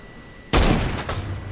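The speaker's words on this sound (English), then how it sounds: "No, I'm shooting at a ball." A burst of video-game gunfire aimed at a ball erupts suddenly after a quiet moment, a loud close blast followed by a quick second shot and ringing tail.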